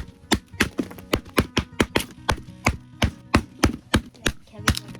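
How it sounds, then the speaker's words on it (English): Wet firewood chopped inside a hot tent, a steady run of about fifteen sharp, close chopping blows at a quick, fairly even pace with no talk. "we're gonna cut the rest of the firewood outside"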